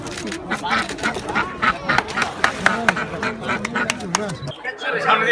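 Ducks quacking at a government duck distribution event, with many ducks giving rapid, overlapping, fairly close quacks mixed with talking and crowd noise.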